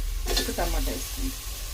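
Tomato frying in a pan and being stirred for brinjal dum biryani, a loud, close sizzle with a few quick scraping strokes in the first second.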